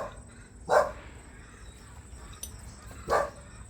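A dog barks twice, a couple of seconds apart, each bark short and fairly close, with low background noise in between and no one talking.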